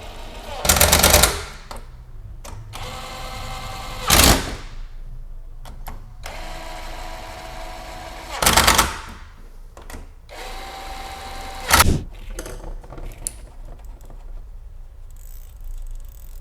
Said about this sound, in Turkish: Cıvatalarımızı üstüne tutturuyoruz.